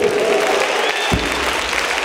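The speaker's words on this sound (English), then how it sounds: "clap your hands and give the Lord a praise" A church congregation claps steadily, a dense wash of hands applauding throughout with a brief low thump partway through.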